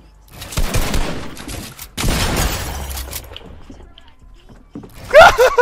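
Pump shotgun blasts in a Fortnite box fight, heard as a couple of loud, sharp game gunshot bursts with clattering building and impact noises between them, mixed with faint game chatter.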